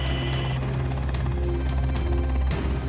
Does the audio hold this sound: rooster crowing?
no